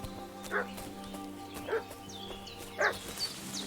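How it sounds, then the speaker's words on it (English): A dog in Kingdom Come Deliverance 2 barks three times at even intervals, about a second apart, moderately near, over a steady low game ambience hum. "That dog's barking."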